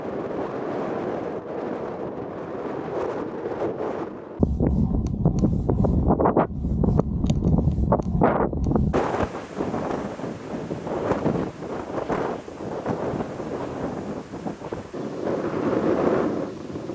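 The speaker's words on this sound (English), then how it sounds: "check out the wind pushing back the surf." Wind and surf at Sea Rim State Park beach in Texas, a steady broadband roar of gusts buffeting the microphone over washing waves, loud and continuous with no voices.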